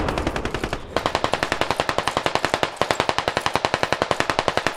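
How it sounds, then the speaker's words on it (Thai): Sustained automatic gunfire in the military shooter SQUAD, loud rapid bursts of evenly spaced shots hammering on almost without pause, with only a brief gap before the firing resumes. "ใครเขายิงขนาดนั้น แล้วยิงไม่พัก"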